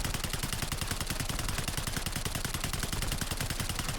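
Sustained rapid automatic fire from a PP-919 submachine gun in Black Ops 6, a dense unbroken burst emptying roughly a whole magazine, loud and close with no talk.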